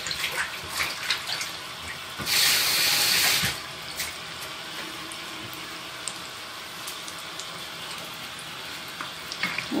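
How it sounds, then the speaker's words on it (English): Tap water runs into a sink during handwashing, a steady hiss with a louder gush of flow for a second or so, then continuing more quietly with small clinks and no talk. "Wash my hands first."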